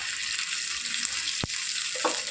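Ginger-cumin paste hitting hot oil, a steady bright sizzle with a single sharp clink of a spoon partway through and a faint stir near the end, no talking.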